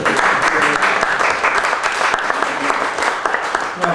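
An audience at a poetry reading claps in dense, steady applause that stays loud and close throughout.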